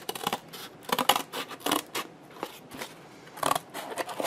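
Scissors cut through thick cardboard in a run of sharp, crunching snips with short pauses, close and fairly loud, no voices.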